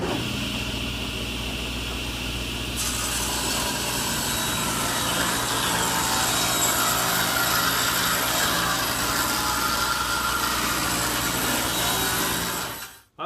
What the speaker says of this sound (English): The next step is to rip the wooden infill piece to 1/2 inch